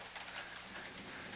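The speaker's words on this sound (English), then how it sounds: "Can you hear the rain outside?" Steady rain falls outside, a soft, even hiss of drops on surfaces that stays faint and continuous throughout, with no voices.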